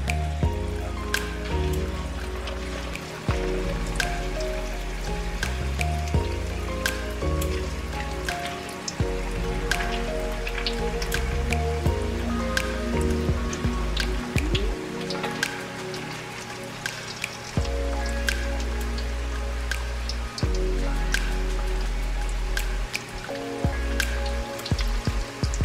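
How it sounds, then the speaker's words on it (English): Chicken pieces frying in hot oil for orange chicken, a continuous dense crackle and sizzle with sharp popping spatters throughout, close and fairly loud, with occasional clinks from handling. "So I'm gonna finish frying up our chicken"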